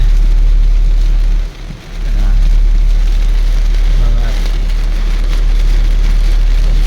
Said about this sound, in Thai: ฝนตก เย็นสบายพี่น้องนะ